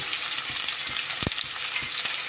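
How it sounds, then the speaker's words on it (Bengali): Potatoes tipped into a hot frying pan for a pumpkin and bitter gourd dish, a close, bright continuous sizzle with a few soft dull knocks. "তারপর ঢেলে এখানে আমি একটু আলুও দেব"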